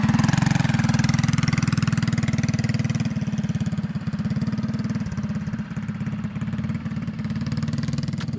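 A mini bike engine runs steadily at close range, a buzzy mid-pitched drone with a rapid pulsing firing rhythm that holds fairly constant throughout, slightly easing in level partway through.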